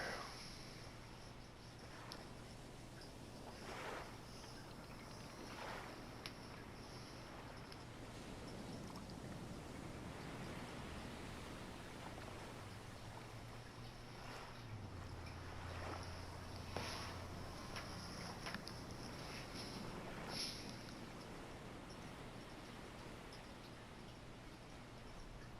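A boat sails across open ocean in the survival game Stranded Deep, with a steady, unbroken wash of water and hull noise running evenly throughout and no voices.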